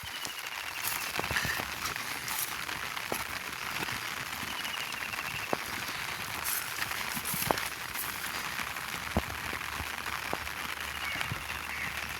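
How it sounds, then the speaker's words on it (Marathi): Morning rain on a goat farm makes a steady soft wash of patter, scattered with sharp individual drop taps and crackles, close by and without talk. "मित्रांनो पाऊस पडत आहे"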